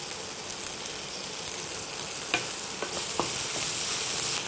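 Mint and coriander being sautéed in a pan with onion and tomato, a steady soft sizzle with a few scrapes and stirring knocks, fairly faint and close, with no talking.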